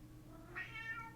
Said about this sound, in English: That is his freak out meow